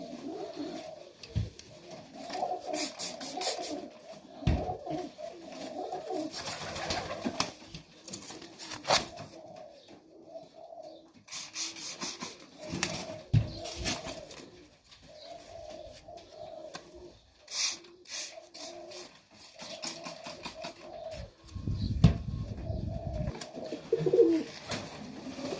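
Young highflyer pigeons coo softly in a loft, low murmuring calls repeating on and off, with occasional rustling and wing movement nearby and no speech.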